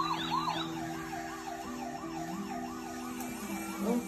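A toy police siren wails in a steady up-and-down pattern, fairly close and continuous, over a low electronic hum.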